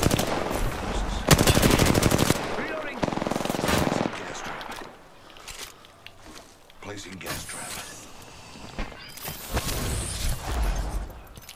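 Machine gun fire from a video game in long, loud automatic bursts that stop and start, mixed with other game noise and excited talk between players.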